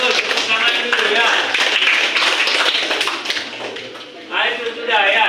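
A classroom full of people claps together in a sustained burst of applause that fades briefly near the end, then swells again.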